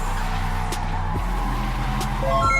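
A Miata drifting with its engine droning loudly and steadily, rising and falling with throttle, while brief tire squeals cut through near and close.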